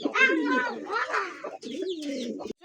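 Pigeons coo close by, a few soft, rolling throaty calls in quick succession with short pauses between them.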